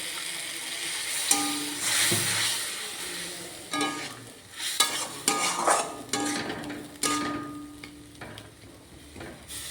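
Cumin powder and turmeric sautéed in a pan for a prawn and poppy seed curry: soft sizzling under repeated scraping and stirring strokes, with a few sharper clinks of utensil on pan, close and moderately loud.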